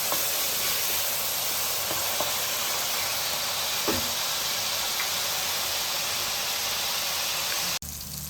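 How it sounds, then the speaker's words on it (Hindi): Tomatoes fry in a pan for beef liver masala with a steady, even hiss that runs unbroken and moderately loud. A single faint clink sounds near the end, and no one speaks. "उसके बाद हम इसमें डाल देंगे टमाटर और इसको भी अच्छी तरह भुनाई करेंगे।"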